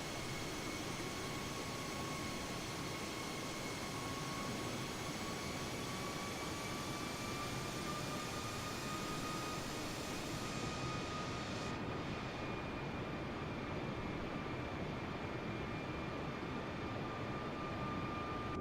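Sustained steady roar of a low, fast-flying airplane in Microsoft Flight Simulator 2020, a continuous engine drone with a whining tone that slowly shifts in pitch, loud and unbroken throughout with no talk.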